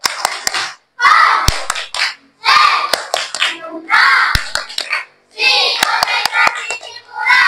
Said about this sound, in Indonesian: Coba tepuk konsentrasi.